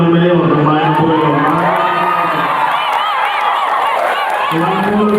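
A rally crowd in Pangasinan, Philippines cheers, whoops and shouts continuously and loudly, with many overlapping voices close by and a steady roar of excited noise.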